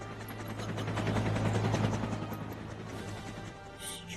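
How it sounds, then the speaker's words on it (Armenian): A helicopter in the Roblox game, a steady rhythmic rotor chop with a low engine hum, close and continuous, fading slightly toward the end. "Վերտալյոտը"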